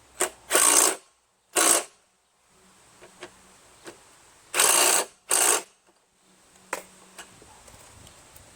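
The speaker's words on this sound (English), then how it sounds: "Just going to tighten the screws for the gas tank." Screws being tightened on the gas tank of an MTD Yardman single-stage snowblower with a swapped-in 5HP Tecumseh engine: a few short bursts of ratcheting and scraping, then scattered light clicks and taps up close, with no talking.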